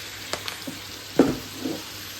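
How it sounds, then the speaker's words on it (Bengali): Leafy greens (shaak) drop into a hot pan and hiss in oil, a few brief crackling bursts and a soft sizzle over a quiet kitchen background. "এখন আমি যেটা করব শাকগুলো দিয়ে দিব শাকটা দিতে হলে হাত দিয়ে এভাবে দিতে হবে"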